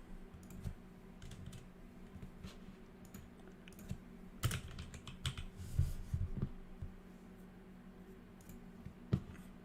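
Fingers type on a PC computer keyboard in quick irregular bursts of close, crisp key clicks with short pauses between them.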